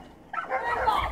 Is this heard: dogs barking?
yes